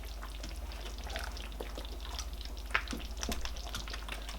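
Nigerian egusi soup with fish is stirred gently in a pot, soft wet scraping and bubbling textures under a constant low hum, close and fairly quiet.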